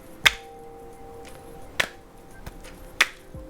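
A cardistry card packet landing unevenly instead of flat makes three separate snapping slaps spread over a few seconds, close up with no talk.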